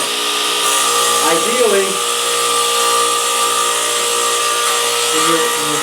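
Radial arm saw jointing the edge of a board, taking off a sixteenth of an inch, whines steadily with a high motor tone as someone talks over it.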